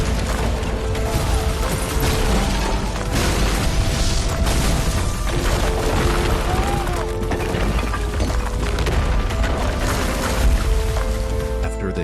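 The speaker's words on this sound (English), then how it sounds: "The motorcycle flew into the armory with sparks and ignited the explosives inside and blew up the entire barracks" A dense, booming blast from an action film as an armory full of explosives blows up the entire barracks, with rumbling low-end roar and crackling debris sustained loudly throughout, mixed with dramatic score.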